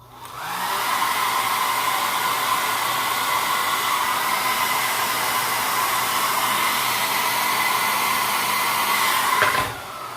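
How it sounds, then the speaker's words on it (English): A hair dryer blows steadily and loudly while drying and styling a curly beard, a continuous whooshing roar for nearly ten seconds before it shifts near the end, with no talking. "Brush it and blow dry in the direction that you want it to style in."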